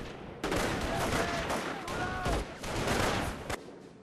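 Dense battle gunfire in the World War II strategy game Company of Heroes: Opposing Fronts, with Volksgrenadiers under fire: sustained overlapping rifle and machine-gun bursts that run continuously and loudly before ending sharply.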